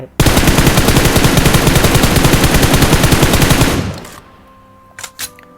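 Rapid, loud automatic gunfire from a scoped rifle in the PUBG Mobile video game. A long, steady burst of close shots runs for nearly four seconds, then stops, and a few soft clicks follow.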